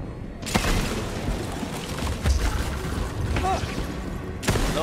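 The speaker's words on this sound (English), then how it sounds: "That's Hoji's cannon slash laser slash giant disaster!" Cannon laser blasts in the video game Shadow Warrior 3: a sharp booming burst, then a sustained roaring rumble and another hard blast near the end, loud and layered with game effects.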